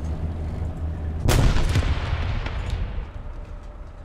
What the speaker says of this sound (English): Did I get shot in the back? Yeah, I did.